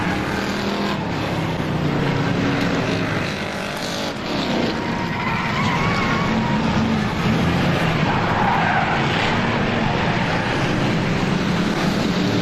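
A race car at a motorsports oval track spins out through turns three and four, tires skidding and squealing loudly and continuously over steady engine roar for the whole stretch.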